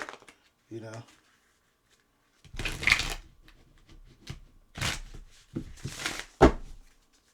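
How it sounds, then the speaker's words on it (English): Cards riffle and flap in several quick bursts close by, with a few soft taps and short pauses in between, and a brief voice early on. "Shuffle these up real good."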